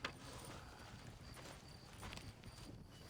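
Horse hooves in Red Dead Redemption clip-clop at an even walking pace, soft and somewhat distant, with a faint background hum.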